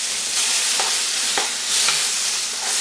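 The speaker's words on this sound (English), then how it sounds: "I'm just going to cook some bacon, render it down, as it were" Bacon frying in a pan, about half a pack rendering down, giving a steady loud sizzle with faint stirring scrapes throughout, no talk.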